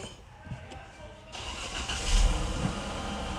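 A Pentastar car engine cranks and catches, with broadband noise rising sharply partway through and then settling into a steady running roar, close and fairly loud, with no one speaking.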